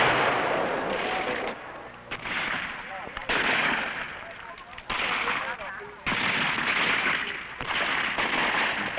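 Tank shells and gunfire sound through Budapest streets in a series of loud, rough bursts of shooting and blasts, separated by short gaps.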